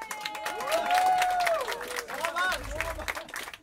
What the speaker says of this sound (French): Ceux qui ont trouvé ça super cool qu'on fasse des ça, applaudissez.